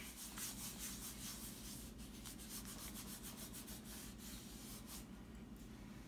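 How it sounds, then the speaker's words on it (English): Paper is rubbed in circles over a printing plate by hand, a close, soft, continuous scratchy swishing with faint rhythmic strokes, quiet and steady throughout with no voices. "I'm going to just rub in circles all around"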